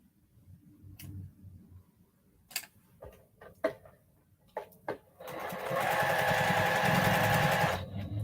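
Several sharp clicks and taps sound close by, then a sewing machine starts stitching a seam with a steady, fairly loud whir lasting a few seconds before slowing at the end.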